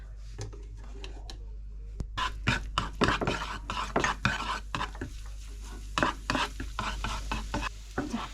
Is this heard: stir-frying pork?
yes